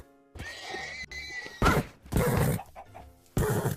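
A horse in a video game whinnies, its high wavering cry followed by loud bursts of snorts and thumps in quick succession, close and loud throughout.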